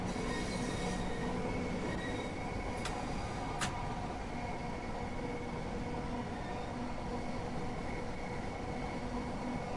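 A Class 375 electric train passing in the Train Sim World 2 video game, a steady loud rumble of wheels and traction noise with a couple of brief sharp clicks, continuous and close throughout.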